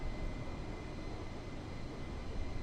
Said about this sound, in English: There's something therapeutic just about listening to the jet noise